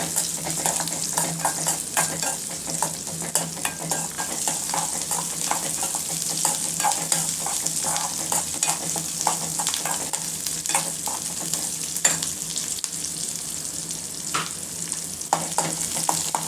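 Ground shallot paste fries in a pan for a roadside-style chutney, giving a long, even sizzle with frequent soft stirring scrapes and the odd clink of the spoon, close and with no voices.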